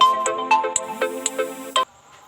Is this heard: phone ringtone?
yes